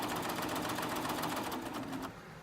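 A Baby Lock serger sewing machine stitches, running as a fast, steady mechanical whir with rapid rhythmic clatter that slows and drops off near the end.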